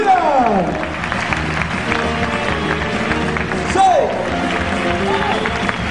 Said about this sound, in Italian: Avanti, applausi dall'Inghilterra, Brooke Julian!